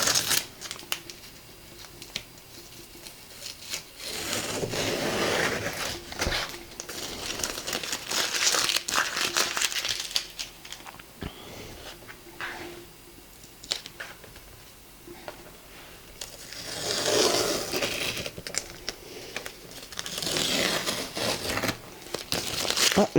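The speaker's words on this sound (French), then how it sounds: "et je vais enlever le scotch." Adhesive tape peeled off a watercolour paper block laid flat, heard as crinkling, tearing strips in several bursts, close and fairly clear, with quiet gaps between pulls.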